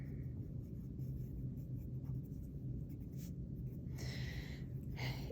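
A pen draws a dotted line across a graph, giving soft, scratchy tapping strokes at close range against a steady low background hum.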